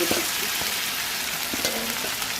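Beef tripe frying with browned onions in a pan, a steady close sizzle with a few scrapes of stirring, no voices.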